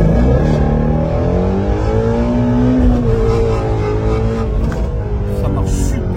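A Shelby accelerating hard with a short-geared gearbox, its engine droning loud and close with rising and falling pitch, while people talk over it.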